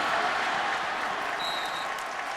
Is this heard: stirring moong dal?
no